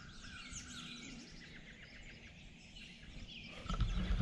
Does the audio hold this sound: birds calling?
yes